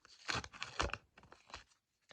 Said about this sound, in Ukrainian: Ось такий у нас пакетик. І давайте відкриємо його.